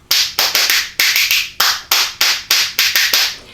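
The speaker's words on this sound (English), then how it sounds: "Now, these spoons sound like this." Pair of regular spoons joined by a plastic piece clacked as a jug-band percussion instrument, a brisk rhythmic run of sharp metallic clicks in quick groups, close and alone.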